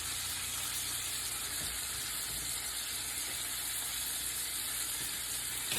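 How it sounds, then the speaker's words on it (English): Steaks searing in a hot iron skillet give off a steady, loud sizzle and crackle of frying that runs without a break the whole time, with no voices over it. "So we're going to put our steaks in, and we are going to give them 2 to 3 minutes each side."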